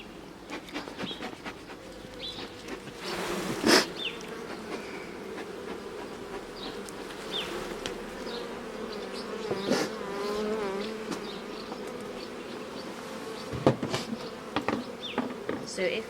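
Honey bees buzz in a continuous droning swarm during a hive inspection, with individual bees flying close past now and then, and a few soft knocks from handling frames under the steady hum.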